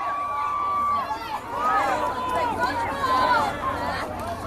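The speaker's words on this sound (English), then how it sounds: "the Northeast fans are very vocal over there" Northeast fans at a 2002 high school football game vocal in the stadium stands, a sustained crowd of shouts and cheering voices with rising calls, heard from a distance.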